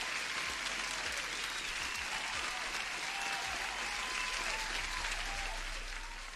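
Applause sound effect played during a day-trading livestream, a continuous, uniform crowd clapping bed, faint and steady for several seconds.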